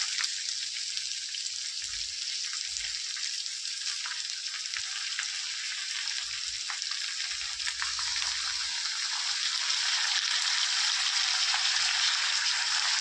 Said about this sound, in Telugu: ఎంత బాగా వాటర్ బయటకు వచ్చేలాగా చికెన్ అనేది ఫ్రై కావాలండి